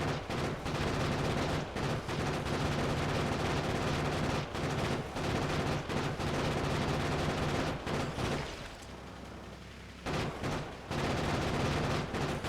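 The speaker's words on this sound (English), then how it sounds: "When you look at it, the ammo does go pretty fast. Just continuously shooting." A Factorio turret submachine gun firing continuously in rapid automatic bursts, loud and sustained, with short gaps where the fire breaks off and one longer lull before the shooting resumes.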